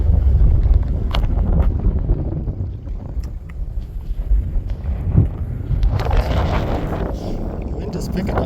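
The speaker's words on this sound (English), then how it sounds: "The wind is picking up." Wind gusts across a lake at a provincial park on Canada Day, a steady broadband rush with buffeting on the microphone that swells louder toward the end, with boats out on the water.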